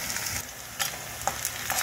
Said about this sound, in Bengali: পেঁয়াজটা কিন্তু একদম লাল হবে না, কিন্তু মোটামুটি ভাজা হবে